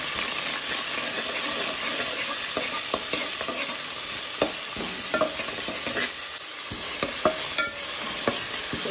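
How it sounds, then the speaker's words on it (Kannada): Chopped green chillies, onion and curry leaves fry in a pan, giving a steady close sizzle with small clicks and scrapes of stirring throughout; no voices. "ಹೆಚ್ಚಿಟ್ಟಂಥ ಹಸಿಮೆಣಸು, ಈರುಳ್ಳಿ, ಕರಿಬೇವು ಹಾಕಿ ಹುರಿಬೇಕು"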